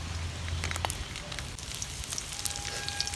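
Chillies and garlic cloves sizzle in hot oil in a pan, a steady crackling hiss with scattered sharp pops throughout.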